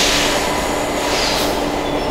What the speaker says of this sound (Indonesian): saya masih menunggu untuk kereta MRT saya. Ini dari jalur sebelah.